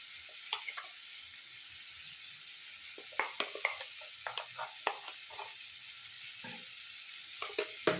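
Ground white mustard and poppy seed paste frying with prawns in a pan, a soft steady sizzle broken by intermittent stirring scrapes and clicks, close and moderately quiet with no talking.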